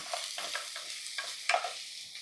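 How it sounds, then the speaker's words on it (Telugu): Garlic and onion fry in a pan with salt, giving a soft, steady sizzle with a few brief stirring scrapes and clinks spread across the moment, one louder scrape near the end, with no talking. "ఉప్పు వేసి ఫ్రై చేస్తున్నా."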